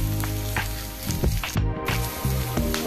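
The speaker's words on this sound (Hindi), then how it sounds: "पियाज को टिके भाजला परे कटा रसुण आउ कंचा लंका पकाइए।" Chopped onion, garlic and green chili sizzle steadily in hot oil while frying for a Madaranga saag fry, with a continuous close crackle that swells a little in short bursts and has no talk over it.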